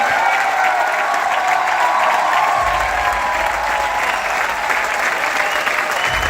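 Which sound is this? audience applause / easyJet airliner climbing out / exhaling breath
audience applause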